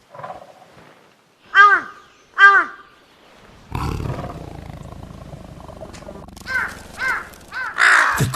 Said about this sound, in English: The crows are disturbed.